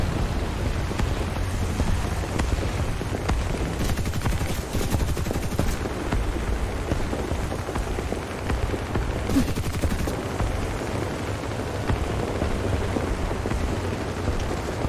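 Continuous rumbling gunfire and explosions from the combat video game War Thunder played on a VR motion simulator, a dense steady roar of shots with no speech.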